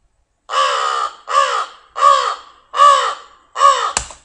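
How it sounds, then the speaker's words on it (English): An American crow, a big all-black bird, gives five loud harsh caws in a steady rhythm, each call alone and close with brief gaps between them. "American crow, it says caw, it's a big bird, it's entirely black"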